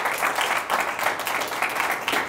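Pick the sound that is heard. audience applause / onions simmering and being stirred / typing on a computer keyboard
audience applause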